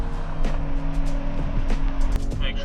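A car engine hums steadily from inside the vehicle while driving after a tie rod replacement, with occasional knocks and rattles over the road noise.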